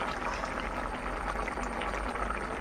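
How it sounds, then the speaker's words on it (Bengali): A little water is poured into a hot pan of mashed potato and tomato during cooking, giving a steady, close hiss of bubbling and sizzling throughout, with no talking. "এখন অল্প জল দিয়ে দিব"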